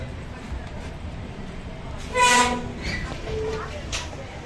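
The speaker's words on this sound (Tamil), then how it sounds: "Chennai to Kanyakumari express train departure ஆகி போயிட்டு இருக்குங்க." The Chennai to Kanniyakumari express train departs, a steady rumble of rolling wagons with a short horn toot partway through, while someone talks over it.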